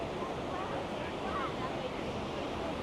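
Waterfall water splashing at the Disneyland Resort, heard as a constant broadband rush of falling water, steady and fairly loud, with no clear speech over it.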